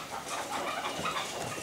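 A caged decoy bird, tied down on the cage base for hunting, calls softly and continuously at moderate volume with no one speaking.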